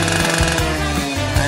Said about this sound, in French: Il faudra quelque chose de gros pour les découper. Comme ma tronçonneuse.